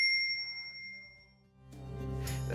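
A single bright notification bell ding rings out at the start and slowly fades, followed by a burst of light music.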